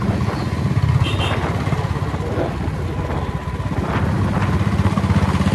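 Royal Enfield Bullet motorcycle being ridden through traffic, its engine a steady, loud, close thump throughout with no talk.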